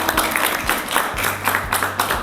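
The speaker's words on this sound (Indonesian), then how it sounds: "boleh tepuk tangan dulu semuanya." An audience at an Islamic New Year talk show in a high school claps in steady, dense applause that fills the room and carries on throughout.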